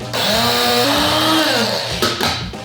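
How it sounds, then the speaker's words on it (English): Kitchen grinder whirring loudly as it grinds small seeds, a steady high motor drone with shifting pitch for about two seconds before it winds down briefly and surges again, no talking. "I'm putting it in the grinder"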